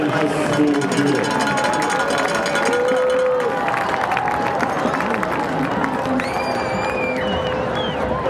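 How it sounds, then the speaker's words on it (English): Crowd at a high school football game, a dense, continuous wash of applause and cheering from a large gathering, with voices and whistles mixed in throughout. "Please give a big round of applause to our winning elementary, middle, and high school units."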